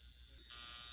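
A high frequency skin wand set to level 2 gives off a thin electric buzz. It starts faint and steps up abruptly halfway through to a steady, higher-pitched whine held close by.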